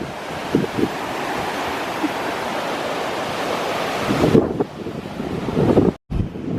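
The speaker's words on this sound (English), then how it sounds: "A lot of waves." Atlantic Ocean waves roll and break on the shore near a marine park, a steady loud surf wash with wind buffeting the microphone and a brief dropout near the end.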